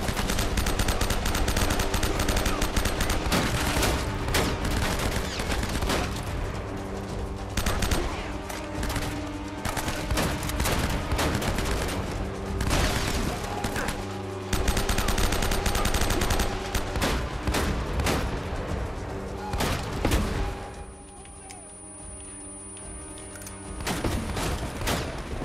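Rapid gunfire from the video game Uncharted: Drake's Fortune, dense bursts of shots and booming impacts in quick succession, loud and continuous, easing briefly near the end before resuming.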